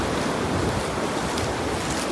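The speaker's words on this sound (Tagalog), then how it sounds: "Nandito po tayo sa dagat" Sea waves washing in at Bucana Beach in Batangas, a continuous broad rushing surf with wind buffeting the microphone, steady and fairly close with no talk.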